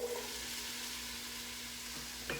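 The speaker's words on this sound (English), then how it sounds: "I'm going to put them into this pot, and then I'm going to use a spoon to stir it around" Onions and vegetables sizzle steadily in oil in a pot for a two-bean vegetable chili, with a soft scrape of a stirring spoon near the end; close and even, no voices.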